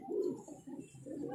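Rampuri pigeons coo in soft, low, rolling calls, a few close murmuring coos repeating without any talk.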